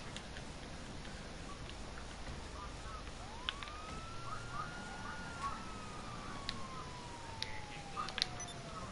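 A police car siren in a video game sounds faintly through a noisy game mix, one long sweeping tone rising and falling in the background.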